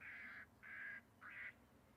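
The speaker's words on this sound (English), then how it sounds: "it was weird that noise because it sounded like the noise of that bird it was trying to scare would make" An airport bird scarer at Manchester Airport plays a synthetic bird alarm call, three loud nasal squawking bursts of about half a second each, evenly spaced over a quiet background.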